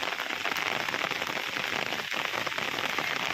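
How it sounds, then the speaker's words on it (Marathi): Steady monsoon rain in Konkan pours down near a temple, a dense, even hiss of drops on surfaces with faint scattered patters, continuous and close, with no voices. "शंकराच्या मंदिरात जाणार आणि पावसाला झालेली आहे सुरुवात"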